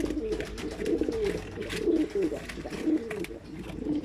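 Pigeons coo steadily in low, throaty rolling calls, several birds overlapping nearby with a busy rustling background.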